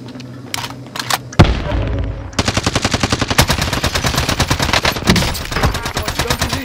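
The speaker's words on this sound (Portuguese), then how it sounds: "Estão atirando em mim!" Heavy gunfire in Call of Duty: Modern Warfare: a sharp blast followed by sustained, rapid automatic fire, loud and close, with a brief pause and another burst.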